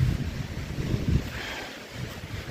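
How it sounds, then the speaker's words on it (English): Strong wind buffets a microphone on an exposed mountain along the Appalachian Trail in the Bigelow range, a loud continuous rushing roar with low rumbling gusts and no voices. "The wind is blowing about 35 miles an hour, I think."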